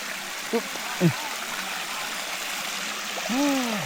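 A river flows with a steady, moderate wash of moving water. A few brief voice-like chirps and a short vocal sound rise over it near the end.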